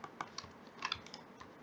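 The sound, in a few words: computer keyboard and mouse clicks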